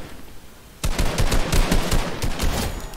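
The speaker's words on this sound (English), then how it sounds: "So let me shoot this enemy." Rapid automatic gunfire from a video game weapon with a reactive wrap, shooting enemy bots: a dense, loud burst of repeated shots that starts abruptly after a quiet moment and keeps hammering until the end.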